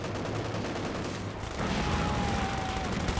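Submachine gun bursts in the video game Company of Heroes 2 during a 2v2 match: rapid, continuous gunfire under a steady battle din, growing louder partway through, with a whistling tone over it.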